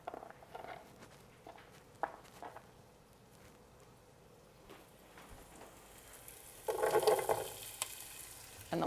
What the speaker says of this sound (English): Oh, I wanted a bigger sizzle than that.